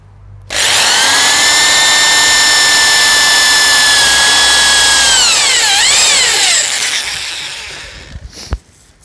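A power drill bores a hole into a wooden hickory golf club head, a loud steady whine that holds for several seconds, dips and wavers as the bit works through, then winds down with a final clunk.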